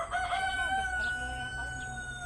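Farmyard chickens, including Rhode Island Reds, cluck and call near a garden with turkeys nearby, a rooster-like crow rising over low background noise.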